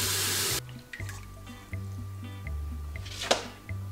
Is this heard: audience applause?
no